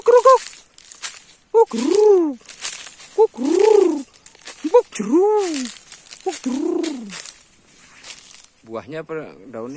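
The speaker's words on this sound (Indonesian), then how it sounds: "Burung apa itu?" A pigeon-like bird coos repeatedly outdoors along a roadside coastal area, a series of rising-falling calls with pauses between, while people talk nearby.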